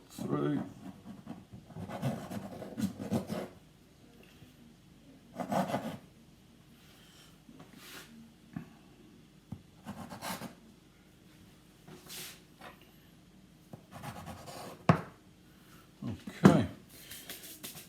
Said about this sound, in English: Now I'm going to cut this into 4, so I'm going to put some flour onto my knife.